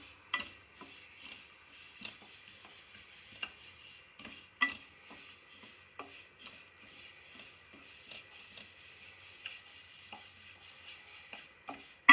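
Sesame seeds dry-roast in a pan for Karnataka-style Sankranti ellu bella, stirred with irregular spatula scrapes and taps over a faint crackle, quiet and close, with no voices.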